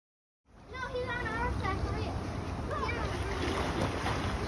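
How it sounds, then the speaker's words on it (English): Strong wind roars outdoors at a hotel by a pool, a loud, steady buffeting rush that starts abruptly and stays constant, with speech-like voices faintly mixed beneath. "It was so windy outside."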